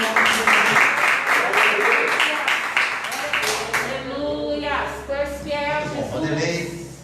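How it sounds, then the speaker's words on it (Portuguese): Church congregation clapping during a Portuguese-language worship service, rhythmic hand claps in the first half giving way to a voice speaking or chanting over the fading applause. "as palmas louvam e engrandecem ao Senhor"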